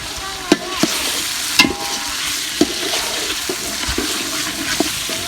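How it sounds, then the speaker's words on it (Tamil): Chicken and masala for Dindigul chicken biryani, about 1.5 kg of meat, is stirred in a hot pot. A steady sizzle runs under repeated sharp scraping clicks of the ladle, close and fairly loud, with no talking. "இதை நல்லா பரட்டிக்கலாம். பரட்டி கொஞ்சம் வேகட்டும்."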